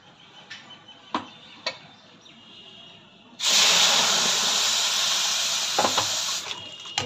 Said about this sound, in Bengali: এবার আমি রেখেছি গরম করা দুধ দেবো